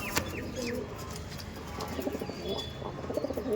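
A male Madrasi pigeon of tournament quality, offered at a pigeon sale in Dum Dum, gives soft low coos mixed with chirps, wing flutters and a busy background bustle.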